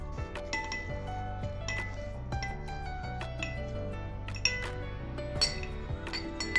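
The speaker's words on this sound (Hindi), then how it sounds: "अब इसे क्रश कर लेंगे ताकि पुदीना का जो रस है वह निकल जाए" Lemon slices, mint leaves and powdered sugar are crushed in a glass, giving repeated sharp clinks and knocks against the glass over quiet background music.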